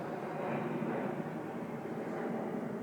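Aeroplane passing overhead above a garden plot of plug plants, a steady broad droning roar that holds evenly throughout with no voices.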